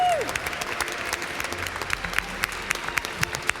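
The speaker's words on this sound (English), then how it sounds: "Big round of applause" A crowd applauds the race winners at the GT World Tour Manufacturer Series final at Red Bull Hangar-7, with steady, dense clapping and scattered sharp claps throughout, after a brief tone at the start.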